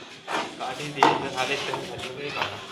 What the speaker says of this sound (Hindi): तो ये बर्तन मैं भर देती हूँ पहले किचन में।